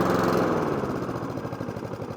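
A Masport Rotarola lawn mower engine idles with a rough, pulsing low chug, fairly loud and close, easing slightly in level over two seconds with no voices.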